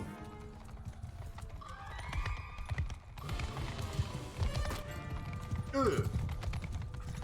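Cavalry horses in a Bannerlord battle, a dense close clatter of hooves at a gallop with a horse whinnying, set against mechanical battle noise.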